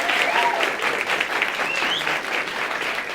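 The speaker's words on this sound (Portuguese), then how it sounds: "Palmas para ele, gente." An audience in the Brazilian Chamber of Deputies claps steadily and densely throughout, a sustained wash of applause at an event on religious diversity.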